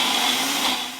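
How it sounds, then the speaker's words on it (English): A countertop blender whirs steadily, blending mango and other frozen fruit in a brief, continuous burst of motor noise. "You're just going to screw on your lid and blend it for about 30"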